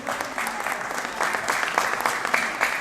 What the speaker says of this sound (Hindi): भाई तालियों की गड़गड़ाहट होनी चाहिए।